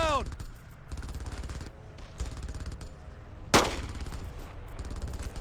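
Machine gun fire from the Brothers in Arms: Earned in Blood video game on the original Xbox, rapid bursts rattling through most of the stretch with one sharp loud crack midway, under faint game voices.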